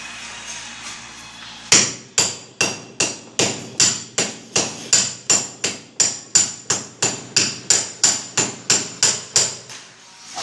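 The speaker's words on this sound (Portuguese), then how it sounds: "logo depois você vem picotando dessa forma aqui, ó." A hammer chips plaster texture off a wall down to bare masonry, with about two dozen sharp, evenly spaced strikes ringing close and loud in a steady rhythm.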